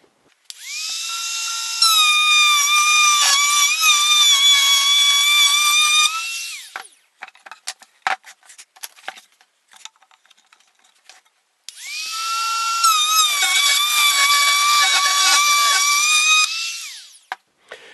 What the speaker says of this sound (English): cut the slot that the drawers are going to slide in